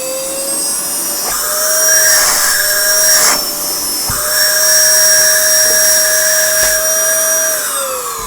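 A Baseus A7 portable car vacuum cleaner runs steadily with a loud, close whine whose pitch shifts a few times as the motor load changes, then tapers off at the end.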